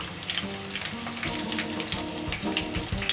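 Bitter gourd frying in hot oil for a katsudon, a steady close sizzle and crackle with light stirring and pan scrapes throughout.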